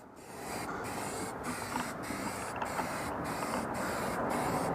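Aerosol spray can coating a rusty car fender with a final coat, a steady loud hiss running nearly the whole time with a few brief pauses between passes.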